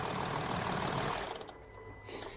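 A 3-litre TDI diesel engine with a variable-geometry turbocharger runs loudly with a dense rumble, then drops off sharply partway through to a quieter, lower hum.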